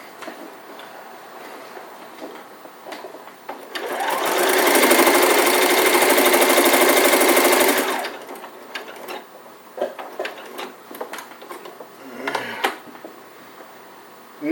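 Sewing machine stitching the seams of a fabric elf hat in one steady run of about four seconds, loud and close, framed by quieter handling clicks and taps before and after.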